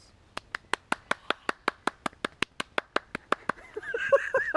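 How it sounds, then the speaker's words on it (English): Single pair of hands clapping about twenty times in a steady, evenly spaced rhythm, crisp and close, followed by a brief burst of indistinct rustling noise at the end. "claps."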